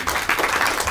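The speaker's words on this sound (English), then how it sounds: "They deserve another round of applause, in fact." Audience applause at a talk, a steady wash of many hands clapping together, fairly loud and even across a short burst with no voices over it.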